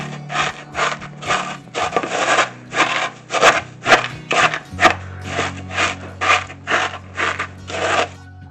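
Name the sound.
crushing Rice Krispies with a small kitchen tool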